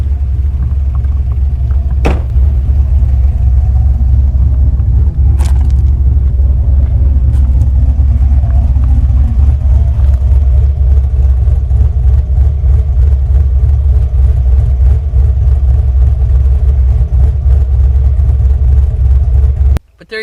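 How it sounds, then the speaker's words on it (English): A Chevrolet Silverado with a 6.0 V8, new exhaust and aftermarket cam idles outdoors, a steady loud low rumble with a lopey pulse throughout, a couple of brief sharp knocks early on, ending abruptly. "Truck sounds so much better without that crappy exhaust job that I had done on it"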